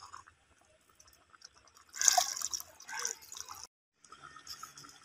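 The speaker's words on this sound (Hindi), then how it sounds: "ये तकरीबन 1/2 लीटर पानी है ये डालेंगे" About half a litre of water is poured into a cooking pot of potatoes and beef mince. It splashes in bursts near the middle of the clip, with quieter drips and clinks around it.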